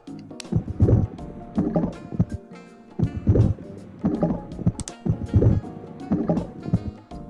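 A stomach is heard through a stethoscope in the video game Trauma Team, giving low, muffled gurgling swells that rise and fade in repeated pulses about once a second, close and dull.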